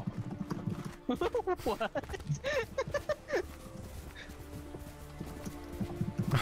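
Horse hooves clip-clopping in a PlayStation game, a steady walking rhythm of hoof strikes running under a person talking and a musical tone.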